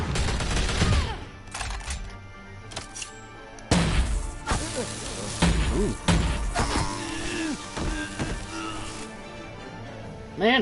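Shotgun blasts in the Batman Telltale video game, several sharp booming shots spread irregularly among crashes and impacts, loud and close, with game voices and music around them.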